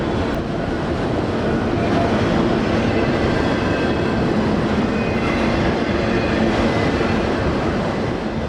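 A CSX freight train hauling auto rack cars rolls past at close range, a loud, continuous rumble and roar of wheels on rail with faint clatter, filling the whole stretch without letup.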